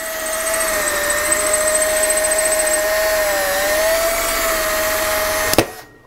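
A small power drill spinning a tiny bit, giving a steady high whine that holds for about five and a half seconds, then cuts off abruptly.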